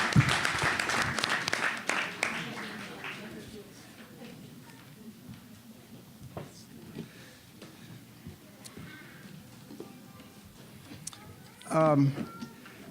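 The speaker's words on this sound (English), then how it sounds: "They definitely deserve another round of applause" Audience applause at an Altadena town council meeting swells loudly at first, then thins out within a few seconds as a voice begins speaking, with scattered faint claps and murmurs continuing under the talk.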